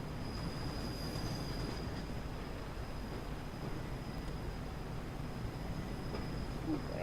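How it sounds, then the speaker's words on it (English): Train passing on a foggy autumn mainline diversion in Train Simulator 2016, a steady rumbling roll of wheels on rails with a faint high squeal running throughout, no talk. "There goes the train."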